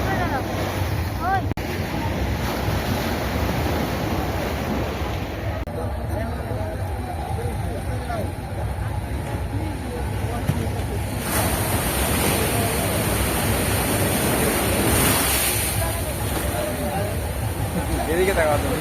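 Sea waves breaking on the beach at Digha: a continuous loud roar of surf with swelling crashes, wind buffeting the microphone, and people talking over it.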